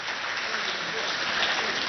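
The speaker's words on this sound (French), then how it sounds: "Applaudissez pour vous d'abord parce que vous êtes très courageux" A crowd at a community event in Abéché, Chad, claps for themselves, a dense, continuous burst of applause throughout the short stretch.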